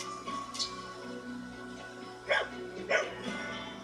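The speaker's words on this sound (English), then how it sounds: "Hello, little dog." A small dog in the video game Fire Emblem Engage gives a couple of short, light barks over a steady background game soundtrack, moderately near.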